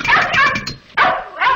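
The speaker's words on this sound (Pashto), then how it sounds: "او وای دا خو د هغه سپي غږ دی" A dog barks in a dubbed comedy film, giving three quick, close, sharp yelps in a short burst.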